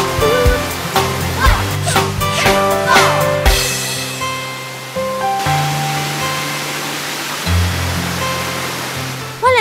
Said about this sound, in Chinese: 你睇个瀑布几大？